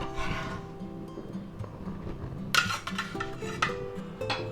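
Slices of roast beef for a pepper steak sub sandwich being laid onto a plate in a home kitchen, with soft clinks of utensil against dish, a sharper clatter midway and scattered light handling sounds, fairly quiet.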